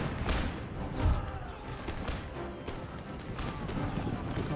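Artillery and musket fire rumble in a large Empire: Total War battle, a dense mass of distant booms and crackling volleys rolling continuously, with a narrator's voice underneath.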